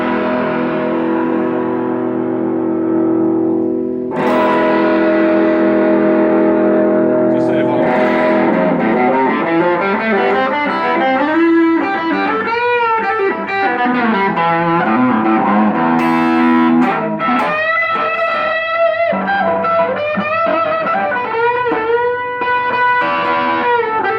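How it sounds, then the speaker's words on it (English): An electric guitar plays through a distorted Fender Blues Junior amplifier, sustained chords and melodic runs ringing with crunchy overdrive and some echo. "I throw in the distortion now."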